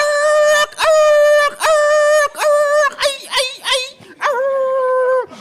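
Close, loud vocal imitation of a dog howling and yipping, with a run of short rising howls followed by a longer sustained one, performed by a voice.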